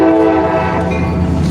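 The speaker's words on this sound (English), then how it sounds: "loud ass train" A train passes very close, its horn blaring in a loud sustained chord over the rumble and rattle of the cars.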